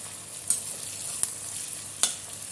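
Slit green chillies sauté with sliced onions in a pan for chicken biryani: a soft, even sizzle with a few sharp clicks of the spoon against the pan, no voices.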